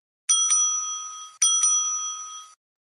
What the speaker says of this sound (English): At the end of the 4th minute, the bell will be rung twice